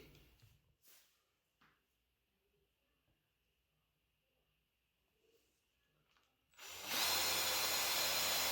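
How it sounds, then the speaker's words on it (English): Power drill boring a hole through a shiplap board for a grommet in a TV console wall build, a loud, steady whir that starts abruptly after a near-silent stretch with a few soft knocks and lasts to the end. "I'll drill that out and then put the grommet in"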